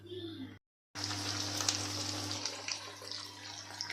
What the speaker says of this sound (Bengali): পনিরটা কিন্তু ভাজা আমি বসিয়ে দিয়েছি।